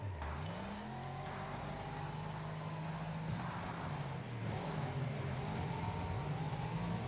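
Race car engines in the Wreckfest video game, a faint but steady drone with shifting pitch as cars rev, accelerate and pass, no voices over it.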